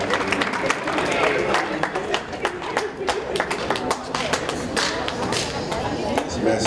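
A crowd claps in a dense, steady patter throughout, with voices talking over the applause.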